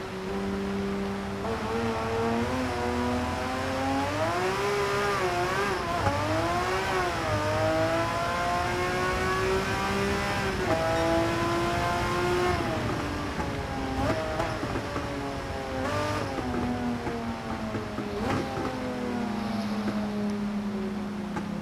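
A race car in Gran Turismo 7 running on tires unsuited to the wet World Touring Car 600 race at Cafe 33, its engine droning steadily and loud with repeated rising and falling revs through gear changes and corners, heard alone.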